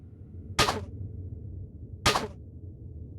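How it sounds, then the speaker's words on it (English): Two crisp gunshots fire at clay jars in Tomb Raider 4, spaced about a second and a half apart over a quiet background, with no one talking. "We got a couple more jars here you can shoot out if you want."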